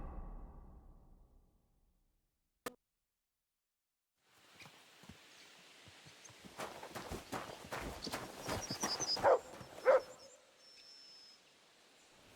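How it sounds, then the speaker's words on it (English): Horse hooves from Kingdom Come: Deliverance II, a medieval role-playing video game, clopping in a soft, uneven walking rhythm that builds after a quiet stretch, with a single sharp knock early on and faint ambient sounds behind. "This horse must have cost a pretty groschen."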